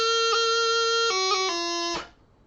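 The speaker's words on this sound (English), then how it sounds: "what many of you might hear is where you play the grace note early and the note change afterwards" A bagpipe tune played in a tutorial on The Golden Wedding in Madeira, with a G grace note sounded early and the melody note changing just afterward; a steady drone-like tone, clear and alone, then cut off.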